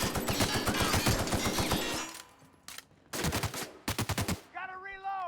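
Loud, fast automatic gunfire in The Outer Worlds, a sustained burst followed by a gap and then a few shorter volleys, with other game sounds trailing off at the end.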